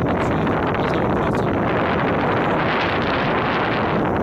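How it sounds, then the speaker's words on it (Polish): Loud, steady wind buffeting the microphone outdoors in an open field beside an old German aviation beacon tower, a continuous low rumbling roar that never lets up and has no voices over it. "No wiatr przeszkadza"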